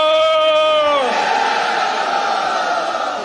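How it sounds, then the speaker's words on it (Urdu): A large crowd at a Pakistan Peoples Party workers' convention in Peshawar roars a slogan after one voice leads it, a sustained loud swell of massed voices. "نعرے"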